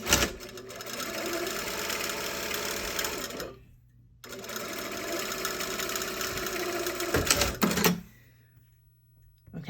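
A sewing machine stitching a first seam pass with fabric wrong sides together, whirring in two continuous runs with a short stop between them, close and steady, then winding down to quiet.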